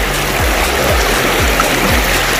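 Ciliwung river water rushes and gurgles steadily, loud and close, with a rhythmic low thumping every half second beneath the continuous stream flow.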